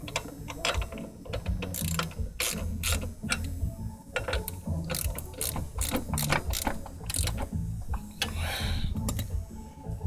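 Ratchet wrench clicking steadily as it tightens a bolt on an Acura RSX Type S coilover during installation, close and continuous with rapid repeated clicks and brief pauses throughout.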